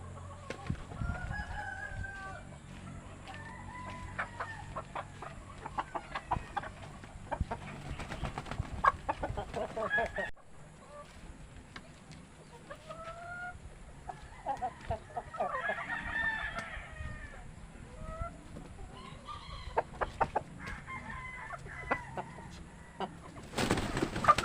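Free-range breeder chickens fed cracked corn in a backyard coop, with a rooster crowing several times and hens clucking steadily close by. The sound is moderately loud and has no talk over it.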